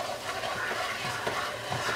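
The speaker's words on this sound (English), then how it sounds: "you're basically just sauteing the garlic, onions, and butter" Garlic, onions and butter sauté in a pan, giving a soft continuous sizzle with occasional stirring scrapes, close and fairly quiet.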